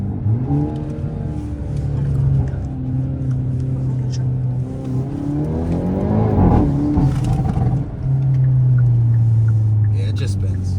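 A Hyundai Elantra N with an EK1 lite stage 2 tune and N75 pulls hard under acceleration. The loud engine note climbs steadily, dips briefly at a shift, then rises again close by.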